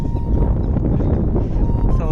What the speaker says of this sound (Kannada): ಗಾಳಿ ಸಿಕ್ಕಾಪಟ್ಟೆ ಗಾಳಿ ಇದೆ,